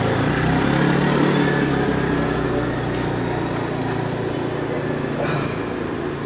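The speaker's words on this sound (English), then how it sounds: "Somebody riding by on a four-wheeler" A four-wheeler ATV fitted with speakers rides past, giving a steady, loud engine drone that holds for several seconds and eases slightly toward the end.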